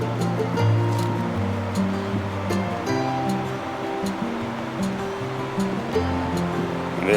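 Rushing water from Class 2 river rapids at East Highgate, with wind, a steady broadband roar filling the clip up close, with no talk.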